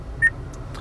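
A single short electronic tone from an Acura's voice recognition system chimes once inside the car, brief and clear over faint cabin hum.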